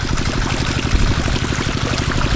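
Water gushes into a string bean field on a farm, a steady, close pouring rush over a rhythmic low pulsing like a running pump engine.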